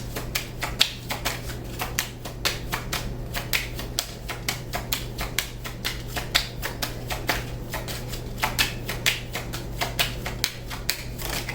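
Tarot cards are shuffled and drawn at close range, giving quick, crisp riffling clicks and snaps in uneven bursts over a steady low hum, with no speech.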